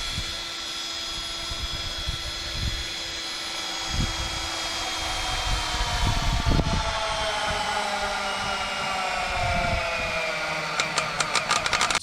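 Electric winch straining under load while pulling a 1967-72 Chevrolet C10 pickup, a continuous droning whine with shifting pitch and a rising tone, steady and fairly loud, ending in a short run of rapid clicks.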